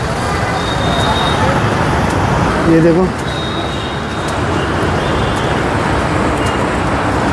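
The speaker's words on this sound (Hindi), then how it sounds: "बहुत सारा ट्रैफिक चल रहा है, आप देखिए" Heavy road traffic moves through a busy market outside Jodhpur railway station, a continuous roar of engines and tyres with occasional horn-like tones, close and loud, while someone speaks briefly over it.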